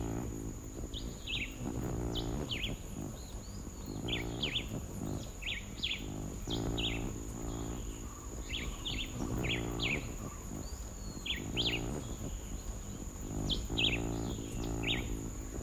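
Tiny birds in the Cuban wild give short, high chirping calls in scattered bursts, some close together, over a steady low rumbling background with no talking.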